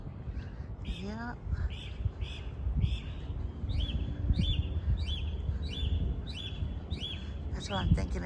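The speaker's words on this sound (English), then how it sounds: "Those birds are really singing this morning." Birds chirp and sing in the morning open air, with repeated high tweets and calls running across the whole stretch over low background rumble and some faint talk.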